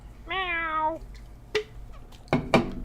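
A human voice imitating a kitten mewling: one drawn-out, wavering meow up close, then a few soft knocks and thuds.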